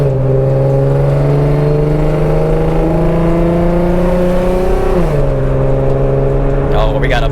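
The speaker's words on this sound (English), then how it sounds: "we got a BMW coming" A BMW car passing close by, its engine tone holding steady then dropping sharply as it goes past, loud and near over a constant road rumble.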